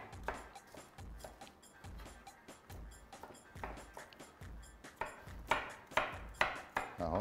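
Onions chopped with a knife on a board make a steady, rhythmic run of crisp thuds that grows louder and quicker toward the end.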